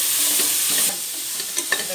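Mixed vegetables for a white kuruma sauté lightly in a pan, a close, even sizzle followed by a few scraping stirs and utensil knocks toward the end, with no voices.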